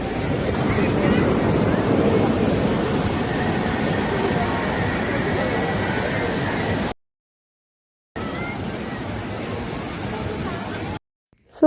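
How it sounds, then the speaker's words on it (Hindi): Ocean waves roll onto the beach at Digha in a continuous, loud roar of surf with wind buffeting the microphone, broken by two short silent gaps. "सो बीच का इतना प्यारा आवाज़ लास्ट टाइम हमने आराम से एंजॉय किया"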